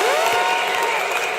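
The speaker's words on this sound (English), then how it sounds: "one more time, a round of applause for Mr. Mohammed." Spectators at the men's volleyball final between the Ghana Army and the Ghana Police applaud a dignitary, a loud, dense burst of clapping with a thin tonal whine above it, fading slightly at the end.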